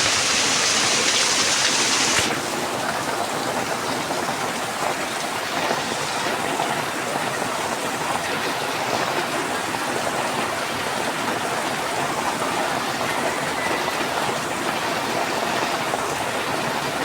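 Heavy rain pours down in a constant loud hiss and roar, steady and unbroken throughout, with no voices heard.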